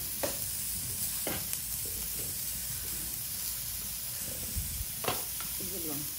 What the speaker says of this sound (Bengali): দেখুন পেঁয়াজ রসুনটাকে একটু হালকা ভেজে নিচ্ছে।